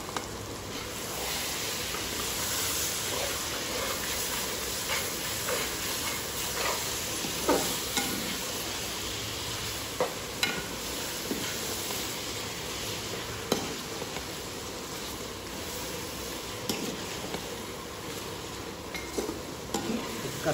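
A tomato, drumstick and brinjal curry sizzling in a pan while a spoon stirs it, giving steady frying hiss with repeated scraping and clinking strokes, close and continuous with no talking.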